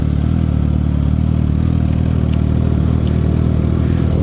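A Suzuki SRAD 1000 motorcycle engine runs steadily up close, a continuous low throbbing rumble with no voices over it.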